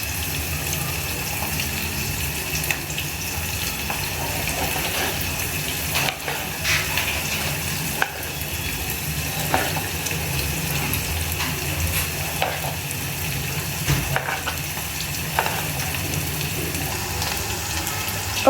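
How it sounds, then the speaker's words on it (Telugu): Onions frying in a pan for a ridge gourd curry, a steady broadband sizzle running throughout with occasional stirring clicks and scrapes, no voices. "ఆనియన్స్ అనేటివి ఎర్రగా అయ్యేంత వరకు వేగించుకోవాలండి"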